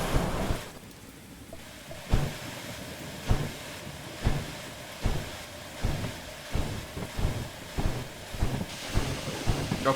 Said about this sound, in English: Of course it's rainy